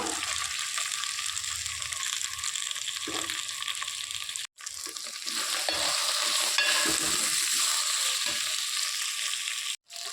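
Okra frying in oil in a pan while freshly ground masala is added, giving a steady, loud, close sizzle with stirring scrapes throughout and a couple of brief pauses.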